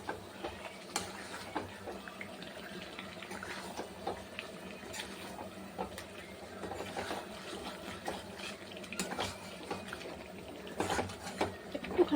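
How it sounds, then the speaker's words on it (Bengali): Water is poured into chicken curry frying in a pan. It makes a continuous moderate sizzle and bubbling splash with scattered clinks, steady throughout, with no talking. "একটুখানি জল দেবো"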